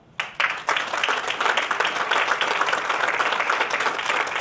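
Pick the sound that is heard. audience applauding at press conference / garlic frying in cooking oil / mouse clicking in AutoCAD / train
audience applauding at press conference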